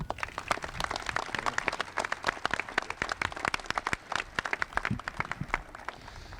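An outdoor audience at a state police memorial park dedication claps for the governor. The applause is moderately distant and scattered, with individual claps clearly audible and continuing steadily.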